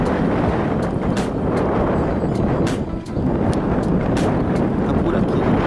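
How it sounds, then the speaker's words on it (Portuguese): Strong wind at Sorocaba airport roars as a dense, continuous broadband rush buffeting the microphone, loud and steady for several seconds with one brief lull midway. "Barulho, pessoal, do vento."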